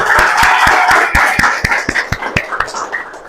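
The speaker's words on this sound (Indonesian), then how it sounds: "tepuk tangan untuk kita semua" Schoolchildren in an Indonesian classroom clap their hands together in a steady, quick rhythm. The claps are loud at first, then grow softer and less even toward the end, with voices faintly underneath.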